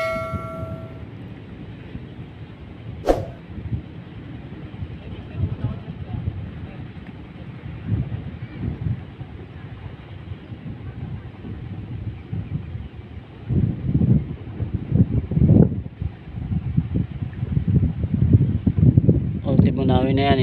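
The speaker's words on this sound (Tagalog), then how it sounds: "Dahil malakas po ang patpat ng hangin po." Strong wind blows across the sea around a small vendor's boat, a continuous blustery roar buffeting the microphone that gusts louder toward the end, with voices talking faintly underneath.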